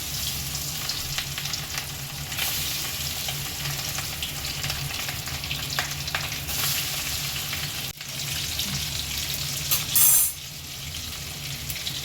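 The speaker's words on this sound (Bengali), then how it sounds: "এবার মাছগুলো এক এক করে ভাজতে দিয়ে দিচ্ছি" Tuna pieces fry in hot mustard oil with a continuous crackling sizzle, broken near the end by a brief metallic clatter.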